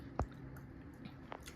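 Chewing on freshly fried potato pakoras at home, a few soft, close, squishy bites and crunches over a quiet background, with no talking.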